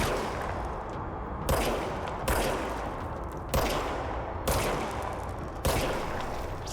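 Gunshots ring out in the video game Control, six sharp, loud reports spaced roughly a second apart, each trailing off into a noisy echo, with no talking.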